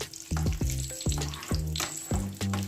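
Cashew nuts fry in hot fat for wheat payasam, with a soft sizzle broken by quick repeated scraping stir strokes against the pan, close and without talk.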